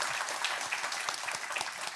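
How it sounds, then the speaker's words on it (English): A crowd at a free speech forum claps for Andrew Lawton, a brisk, continuous patter of many hands lasting a couple of seconds with no voices over it. "give him a round of applause"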